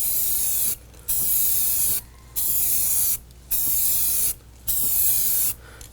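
Spray paint can hissing out coats onto a Rock-Ola Jump Bug arcade cabinet, five steady bursts of about a second each separated by short pauses, loud and close with no talking.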